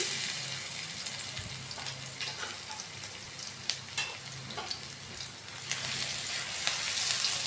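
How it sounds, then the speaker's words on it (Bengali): Chopped garlic fries in hot oil with a constant close sizzle, punctuated by occasional scraping and stirring clicks as it is moved around the pan. "এরপর একটু নেড়ে ভেজে নেবে।"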